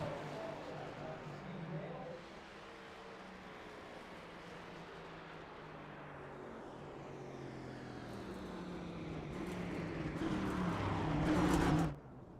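Race car on a speedway heading out across the start-finish line for a qualifying lap, its engine a steady drone that swells louder toward the end, with faint commentary underneath.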